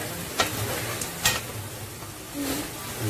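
Masala being stirred and mixed in a cooking pan along with lightly browned onions for chicken shorba, a soft scraping with faint sizzling underneath and a few sharp spoon knocks against the pan, fairly quiet throughout.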